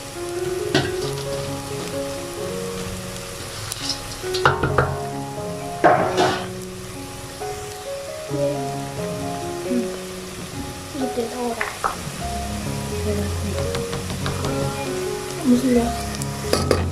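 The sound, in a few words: onions frying in oil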